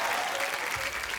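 Studio audience applause on a comedy talk show, a brief burst of steady clapping from a crowd, moderately loud and filling the whole moment.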